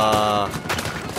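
Gunfire bursts in the Uncharted 4 video game ring out after a sustained musical tone, as a short, dense volley of shots over game sound.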